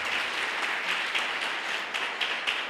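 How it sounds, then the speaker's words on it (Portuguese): A church congregation applauds during a sermon, a dense wash of many hands clapping at a steady level, heard from a moderate distance with no clear speech. "Você pode aplaudir o Senhor?"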